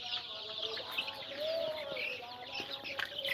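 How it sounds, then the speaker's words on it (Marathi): Disturbed chickens in a poultry brooding setup cluck and chirp continuously at moderate level, a busy flock chorus with overlapping calls and no speech. "पक्षी थोडे डिस्टर्ब व्हायला येतात"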